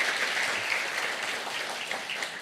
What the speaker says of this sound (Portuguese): vamos aplaudir a Deus aí pelas pessoas que estão aqui pela primeira vez